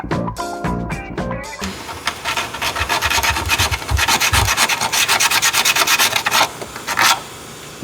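A grinder works a weld on the heat exchanger of a 2018 Sidewinder snowmobile, a loud, steady abrasive rasp close up that follows a brief stretch of other noise and then cuts off near the end.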